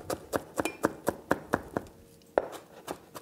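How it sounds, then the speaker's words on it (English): Rapid knife chopping through stacked, rolled herb leaves on a board, about a dozen crisp evenly spaced thuds followed by a few slower, scattered cuts. "Put your leaves in a stack, roll them over, and then chop them."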